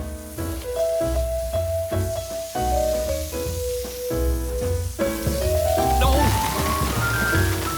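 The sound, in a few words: shower running in a cartoon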